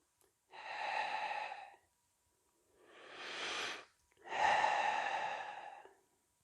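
Three long, heavy breaths, two loud exhales with a quieter one between, from a person holding a side plank core exercise, close and alone.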